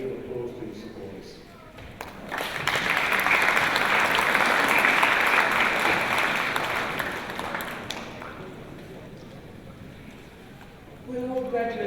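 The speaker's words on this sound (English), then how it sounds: "graduates, turn around and give applause to your supporters." Graduation ceremony crowd breaks into broad applause that swells, holds for several seconds and fades, with speech heard briefly before and after the clapping.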